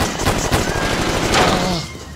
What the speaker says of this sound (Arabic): أنا سمعت صوت رصاص